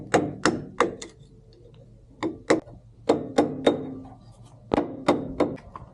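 A ring being tapped into a John Deere 535 cutter bar, a series of sharp metallic hammer blows in small groups of two and three, close and loud, with short quiet gaps between.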